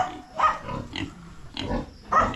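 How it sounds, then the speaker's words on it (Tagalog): Pigs in a pen on a small mini farm, giving several short grunts and snorts in bursts, fairly close, with no talking. "Meron din po kayong banlat ng baboy."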